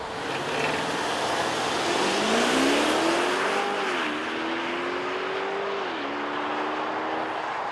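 A 2016 BMW 750i with a twin-turbo V8 and 8-speed automatic pulls hard under acceleration, its engine note climbing steadily through the gears with brief dips at each upshift, loud and close with no talking.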